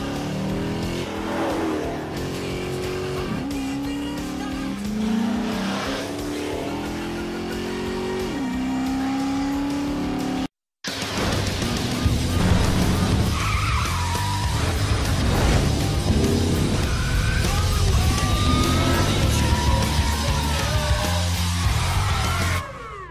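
Dodge Charger with a 470-horsepower Hemi V8 revving hard, loud roaring bursts with rising and falling pitch, then a brief cut and a denser stretch of engine noise mixed with yells and music.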